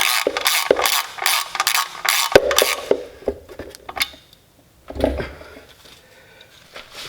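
A ratchet tightens the oil filter housing on a Lexus ES 350, giving quick bursts of metallic clicking for a few seconds, then softer scattered clunks and handling noises.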